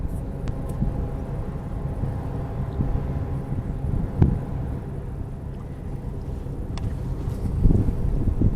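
Strong wind sweeps across a lake near a dam, a steady low roar and microphone rumble with occasional louder gusts and faint clicks.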